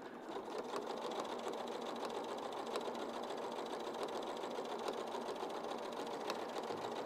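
A sewing machine stitches continuously through quilting fabric at a steady, fast mechanical whir that stays fairly quiet and even throughout, with no talking.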